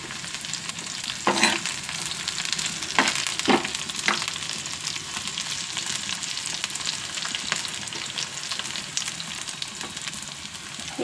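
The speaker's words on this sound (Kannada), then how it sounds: "ಇವಾಗ ಹಸಿಮೆಣಸಿನ್ಕಾಯಿ ಹಾಕ್ಕೊಬಿಡೋಣ. ಮತ್ತು ಒಂದು ಸ್ವಲ್ಪ ಕರಿಬೇವು" Green chilies and curry leaves fry in hot oil for mutton sukka, a steady close crackling sizzle with a few sharp spatters and stirring scrapes, no talk.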